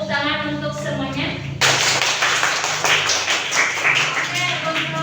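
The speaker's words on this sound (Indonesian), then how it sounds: "tepuk tangan untuk semuanya" A class of students claps together in a classroom, a sudden burst of dense, close hand claps that starts after a teacher's voice and continues steadily for several seconds, with voices mixed in.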